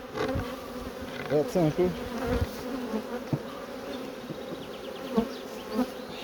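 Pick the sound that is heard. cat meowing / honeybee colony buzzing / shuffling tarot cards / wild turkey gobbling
honeybee colony buzzing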